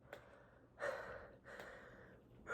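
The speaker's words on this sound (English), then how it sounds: "So I took a deep breath." Someone draws deep breaths, with a few close, airy inhales and exhales that rise and fall in short surges, quiet and alone without any talk.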